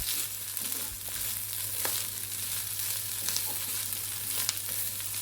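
Shark puttu, a scrambled shark fish dish, is stirred with pepper powder in a pan. A soft, steady sizzle runs throughout, with scattered scraping clicks from the stirring. No one speaks.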